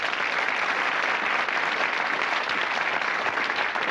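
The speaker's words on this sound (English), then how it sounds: "A round of applause for them too, yes?" Studio audience applause on a 1984 British quiz show, a continuous, even roar of many hands clapping at steady loudness throughout, with no voices over it.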